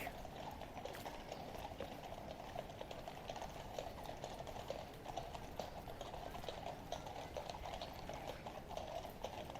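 Horses of a mounted guard step on pavement with faint, steady hoof clops under a dense wash of crowd and street noise, the hoofbeats distant and hard to pick out.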